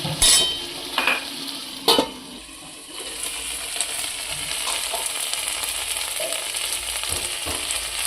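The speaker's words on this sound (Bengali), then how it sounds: "চলুন বেগুন দিয়ে আমি মশলাটা খানিকটা কষি" Spice paste fries with chopped eggplant in a pan, a steady close sizzle with a few sharp scrapes and stirs of a spoon near the start, the hiss continuing evenly after.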